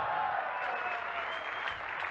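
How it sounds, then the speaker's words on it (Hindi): An audience at an RCM business meeting claps and cheers, a dense, continuous wash of applause from a large crowd with no break. "ये चिल्ला रहे हैं, तालियां बजा रहे हैं, नाच रहे हैं"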